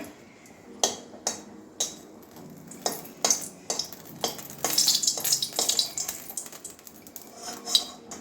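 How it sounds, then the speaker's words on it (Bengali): Dried red chilli frying in hot oil, a faint steady sizzle running beneath repeated sharp metallic clinks and scrapes of a utensil against the pan, with a busier stretch of stirring midway. "এবারে ফার্স্টে একটা শুকনো লঙ্কা ভেজে নিচ্ছি"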